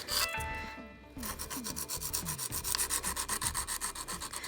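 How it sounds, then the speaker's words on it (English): A nail file rasps back and forth across the edge of plastic nail tips in quick, close, rhythmic strokes, steady and fairly faint, with no talking. "it does need a little bit of filing"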